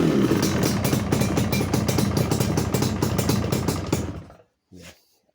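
A Yamaha RD350LC hybrid motorcycle engine runs at a loud, steady, rattly idle close by, then cuts out abruptly, leaving near silence with one brief faint knock.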